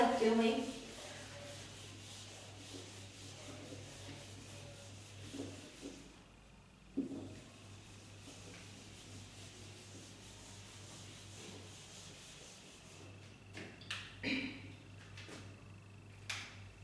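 A board eraser rubbing out writing on a board, heard as soft intermittent scrubbing strokes across a quiet room, faint and spread over the length with a few louder knocks and scrapes near the start and end, no talking.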